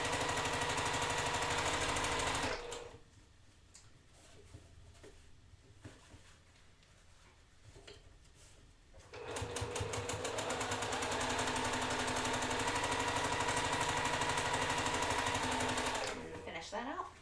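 Sewing machine stitching quilt pieces, running fast and steady, then dropping to a quiet slow stretch before speeding back up to a loud continuous whirring rattle, close by.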